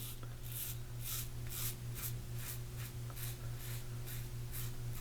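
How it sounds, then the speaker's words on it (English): A Rex Ambassador safety razor rasps over sideburn stubble in a steady run of about ten short, crisp scraping strokes, close and fairly loud over a low constant electrical hum. "Now we'll go down the left side, cut that sideburn,"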